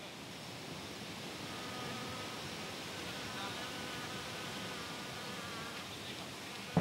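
Wild bee swarm in a jungle giving a steady, dense buzzing hum that holds evenly and close throughout, with no voices.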